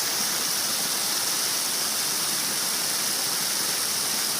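Water runs steadily down an irrigation canal at dawn, a dense, even rushing wash that stays constant throughout, fairly close, with no voices over it.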